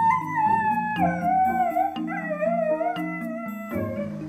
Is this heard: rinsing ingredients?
no